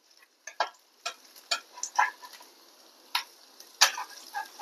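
Bhaji fritters fry in oil as they are flipped over, making soft, scattered clicks and short bursts of quiet sizzling with gaps between them.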